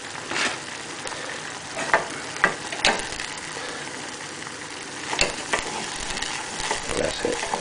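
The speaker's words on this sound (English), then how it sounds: "Just give that a quick stir around." Flour sizzling in pan juices as gravy starts, a steady close fry with periodic scraping stir strokes and utensil knocks against the pan.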